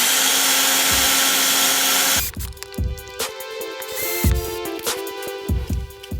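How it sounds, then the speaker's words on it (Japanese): Small drill boring a 2mm hole in a Mini 4WD plastic part, a whirring tool with steady high whine and repeated low bumps as the bit engages, following an initial broad hissing burst, close and alone. "この状態で 2mm の穴を開けていきます。 2mm のドリルを先ほど言った穴をガイドにして"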